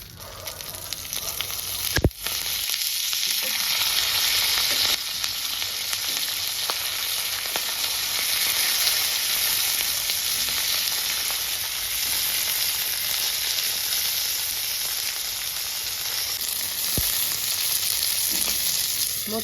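Green chillies fry in freshly added oil in a pan while a Telugu ivy gourd chutney is prepared. A loud, steady hiss of spattering oil runs throughout after a sharp clatter near the start.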